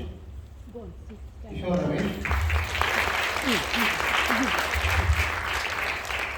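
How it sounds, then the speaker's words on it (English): Applause for a runner-up at a student music awards ceremony, starting after a brief announcement and swelling into steady clapping from an audience that continues to the end, with voices beneath. "Thanks for the applause to Kishore."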